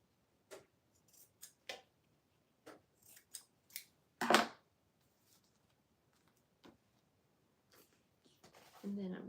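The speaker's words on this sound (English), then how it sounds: "I'm going to go through and cut the corners now" Scissors snip the corners of glued journal pages in a craft studio, a series of crisp, close cuts spaced irregularly, with a louder rustle midway and faint talk near the end.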